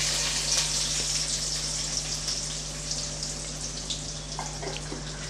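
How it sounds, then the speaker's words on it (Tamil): Finely chopped large onion sautéing in a pan for a brinjal gravy, a steady soft sizzle with faint scattered crackles throughout, no talking. "நான் அதை நல்லா வதக்கி விட்டுறலாம்."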